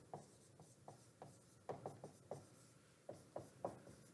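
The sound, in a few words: writing on a board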